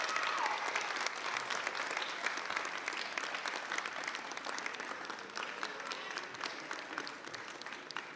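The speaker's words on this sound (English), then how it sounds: "let's give them a round of applause for the things that they're doing for you." Round of applause for teachers at a high school assembly in Worcester, Massachusetts: a large crowd claps steadily and loudly in a hall, the clapping slowly fading toward the end.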